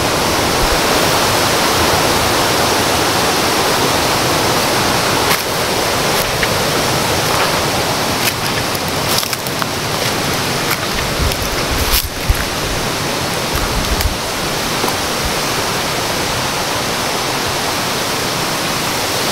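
A stream flowing below a hillside garden, a constant loud rush of water that fills the whole clip, with a few faint knocks on top.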